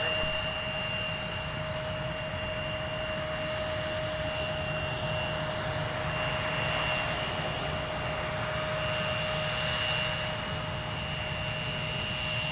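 Embraer 175 regional jet engines at Minneapolis–St. Paul airport give off a constant broadband roar with steady whining tones, moderately loud and unbroken throughout.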